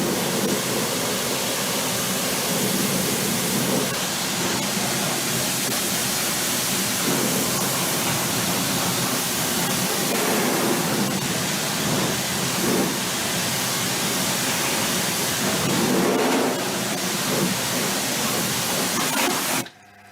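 High-pressure water from a pressure washer blasts a car wheel arch, rinsing away dissolved brown residue; a loud, steady, broadband hiss runs continuously for about twenty seconds, with surging bursts as the spray shifts, then cuts off abruptly.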